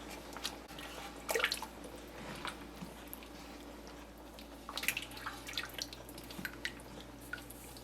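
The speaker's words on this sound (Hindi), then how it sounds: "इसमें हमें जो हमने यखनी बनाई हुई थी वो हम इसमें यखनी हम शामिल कर देंगे" Meat stock (yakhni) is poured into a pot of mutton tahari, giving two splashing, dripping bursts of liquid over a quiet background.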